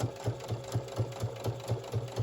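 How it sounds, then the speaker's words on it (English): A sewing machine stitches a reindeer hot cocoa treat holder, its needle thumping in a fast, even rhythm at close range with the motor whirring underneath. "And I'm just going to sew, and I'm trying to cover up the little dots or the little holes that were already in there."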